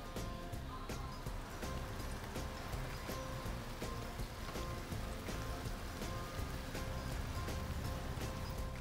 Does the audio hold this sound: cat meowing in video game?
no